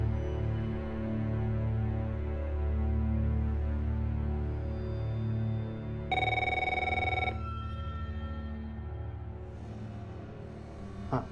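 A telephone rings in a single bright electronic burst over a steady droning background, clear and fairly loud, with no talk around it.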